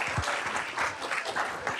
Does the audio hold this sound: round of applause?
yes